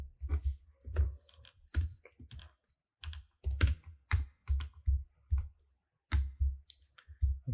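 Code being typed on a computer keyboard, loud close bursts of rapid key clicks in irregular clusters separated by short pauses, with no voices.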